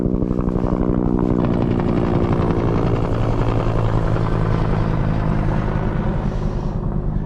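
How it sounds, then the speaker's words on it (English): Helicopter passing overhead on a snowy stretch of the Pacific Crest Trail, loud steady rotor thumping and engine drone filling the whole moment, close and constant with no talk. "Helicopter coming over."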